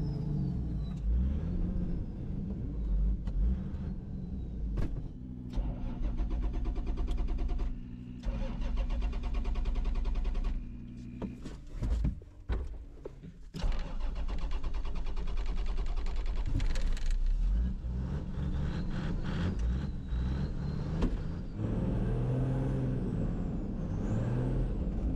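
The engine of a rally car competing in the Dakar Classic 2025 runs loud and close throughout, with long stretches of strained revving, a brief drop in the middle, and then renewed throttle.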